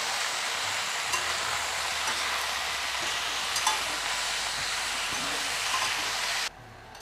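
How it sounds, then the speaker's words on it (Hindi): Ash gourd (petha) sabzi sizzles loudly and steadily in a pan while being stirred, with faint knocks of the spoon, until the hiss suddenly drops away near the end. "अब इसमें डाल देंगे सब्जी को। जैसे हम चला लेंगे, अच्छी तरह मिला लेंगे।"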